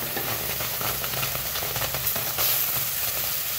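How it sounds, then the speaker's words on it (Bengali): Semolina frying in a pan over low to medium heat while being stirred, a steady soft sizzle and hiss running evenly throughout without pauses, fairly close, with no talking. "লো টু মিডিয়াম হিটে রেখে একটু ভেজে নেব।"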